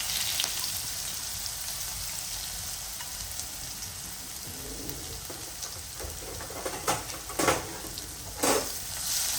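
Asafoetida, ginger-garlic-chili paste and green garlic sizzle quietly in hot oil in a pan with cumin for ragda patties. A steady soft fry is broken by a few sharper spatters and stirring scrapes near the end.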